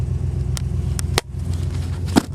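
A 1972 Ford Gran Torino Sport Fastback with 53k original miles drives along with a steady, close, low engine hum, punctuated by a few sharp clicks or knocks.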